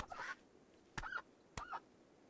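Ducks in the colony-sim video game RimWorld give a few short, fairly faint quacking calls, three brief bursts spaced across a couple of seconds with no talk.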